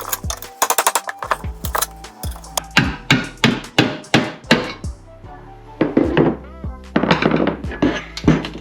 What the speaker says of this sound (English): I'm gonna go ahead and start separating this with a flathead and a hammer